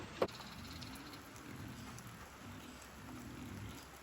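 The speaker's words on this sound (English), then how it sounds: "Metal roof, raindrops." Soft, steady rain falls on a metal roof in a faint, even patter, with one brief sharper tap near the start and no voices.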